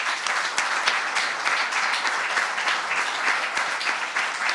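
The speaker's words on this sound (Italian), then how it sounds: "c'era l'allora compianto Corleanò, e quindi gli farei un applauso." Steady crowd applause fills an indoor gathering for a basketball club in Brindisi, even and continuous clapping from many hands at a fairly close distance.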